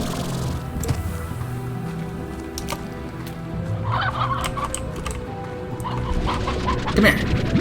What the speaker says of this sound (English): Oh, I did hear chickens.